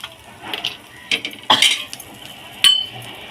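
Metal spatula scraping and clinking against a pan while working green chili masala with peanut powder, a series of sharp metallic scrapes and taps, close and fairly loud, no voice.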